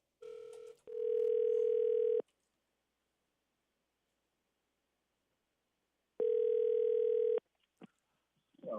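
A steady telephone tone sounds on a radio station phone line, heard as two long flat bursts separated by silence, with clicks of the line being picked up and dialed around them.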